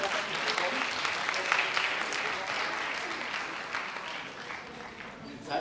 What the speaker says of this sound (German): Ein kleinen Applaus bitte für die drei Freiwilligen,